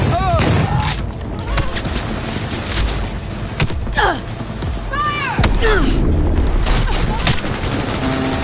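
Shotgun blasts in Cyberpunk 2077, a series of loud sharp booms spaced through a chaotic firefight with whooshing effects and other gunfire between shots.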